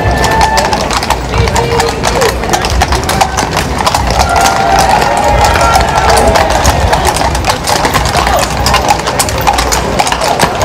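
Hooves of cavalry troopers' horses from Scotland's Cavalry Regiment clip-clop steadily through a ceremonial Riding of the Marches parade into Parliament Square, loud and continuous beneath crowd noise and voices in the background.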